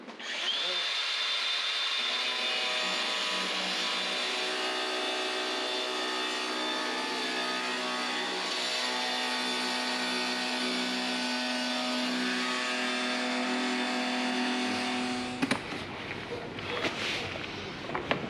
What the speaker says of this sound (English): Our final line is drawn. And Matt's getting ready to grind it off